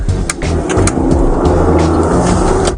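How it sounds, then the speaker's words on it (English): A Seattle police car's engine roars loudly as it speeds up on the way to a high-priority call at night, a heavy rumbling drive that stays steady and close with scattered clicks and no voices. "We can hear the roar of his engine as he speeds up"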